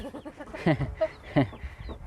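Chickens clucking in short bursts, several calls overlapping with soft background noise, close and moderately loud.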